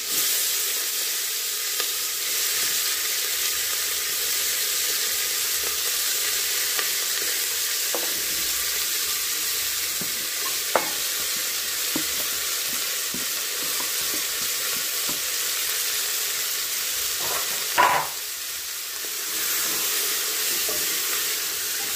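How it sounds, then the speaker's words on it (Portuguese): Pork skin frying in oil as it turns into crackling, a long steady hiss and sizzle with faint occasional pops and one louder clink of a utensil near the end. "E o corinho praticamente virando ali já no torresminho."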